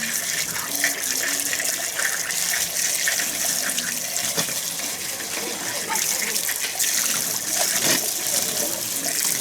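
Water pours steadily from a kitchen tap while a fresh pumpkin is washed, with splashing and a continuous gushing hiss close by.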